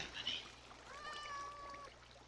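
Faint cat meows from Minecraft, a short high mew then a longer drawn-out one, quiet over a low background.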